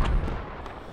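A mortar round lands in the military video game Project Reality, a single heavy boom at the start that rolls off into a rumbling decay within a second.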